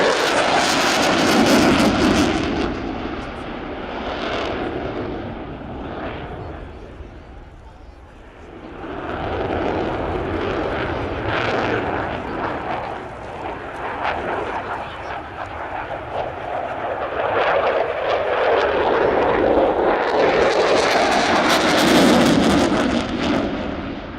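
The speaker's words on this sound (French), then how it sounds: "la post-combustion est alimentée, c'est-à-dire qu'on a un maximum de puissance" A jet aircraft at an air show runs at full power with its afterburner lit, giving a loud, broad roar that surges, fades briefly, then swells again over about 24 seconds.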